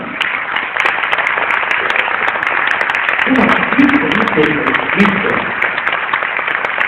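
Steady audience applause at an Advent concert in Valga, continuous and fairly loud, welcoming an ensemble leader to the stage, with some voices murmuring beneath the clapping.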